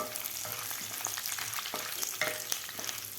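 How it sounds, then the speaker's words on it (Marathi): Curry leaves fry in oil with roasted chana dal for lemon bhel, giving a steady close crackling sizzle with occasional spoon scrapes against the pan. "कढीपत्ता व्यवस्थित आपल्याला ह्या डाळ्याबरोबर तळून घ्यायचा आहे"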